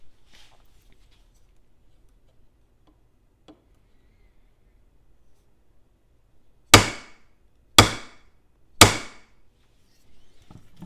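Three sharp, loud metallic impacts about a second apart as a Spartan Harsey folder knife with a CPM-S45VN blade edge strikes aluminum bar stock, each hit ringing out briefly after near silence.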